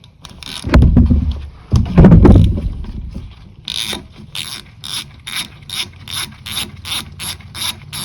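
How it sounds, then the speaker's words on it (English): A hand ratchet clicks in quick repeated bursts while loosening the AC belt tensioner bolt on a 1988-1992 Toyota Corolla with a 4A-F engine, preceded by a couple of heavier clunks, close and loud with no talking. "Loosen your AC tensioner bolt."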